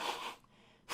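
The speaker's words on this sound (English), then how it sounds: "I gotta blow my nose." A person blows their nose in two short, breathy, nasal bursts with a quiet pause between them, close to the microphone.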